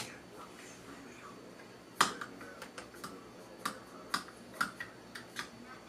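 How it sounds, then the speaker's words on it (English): Sharp plastic clicks from Xbox Adaptive Controller buttons, a dozen or so irregularly spaced, one louder snap near the start, over a faint background hiss. "And here you can hear more of a clicking sound."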